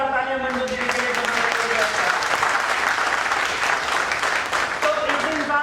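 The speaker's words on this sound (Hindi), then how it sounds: "एक बार जोरदार तालियां मंजू दीदी के लिए।" Loud, sustained applause from a crowd at a network marketing training session in Meerut, dense clapping filling the whole stretch, with a voice briefly audible at the start and end.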